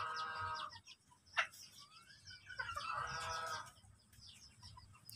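Ornamental ayam cemani chickens cluck softly in a backyard pen, a few short calls and a brief louder squawk over steady low background noise.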